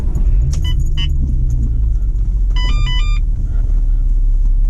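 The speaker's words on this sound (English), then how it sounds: "now if I start up the car" A VW Golf MK4 R32 engine starts with a key-turn chime and a brief crank, then settles into a low, steady idle rumble close by, with electronic beeps over it.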